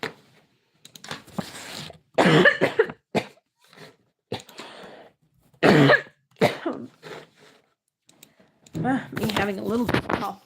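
Several sharp, harsh coughs burst out one after another while a person works on building a house entrance, with short quiet gaps and softer vocal sounds between them.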